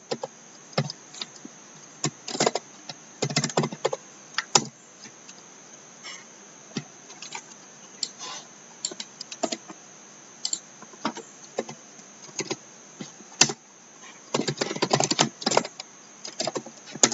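Keys clatter on a computer keyboard as code is typed for a CodeChef beginner problem, bursts of quick taps alternating with brief pauses, close and fairly quiet, with no talking.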